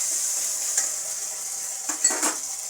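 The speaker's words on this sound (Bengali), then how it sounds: "আদা রসুন দিয়ে দিয়েছি।" Ginger and garlic frying in oil in a kadai, a steady bright sizzle with a few soft stirring scrapes and light clinks, close up.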